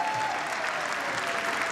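Members applauding in the US House chamber, a dense, continuous roll of clapping from many hands, steady and fairly close, with no talk over it.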